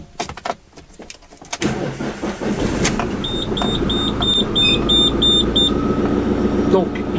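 A car engine cranks and catches, then settles into a steady idle under a chime of repeated dashboard beeps, heard from inside the vehicle with brief talk at the start.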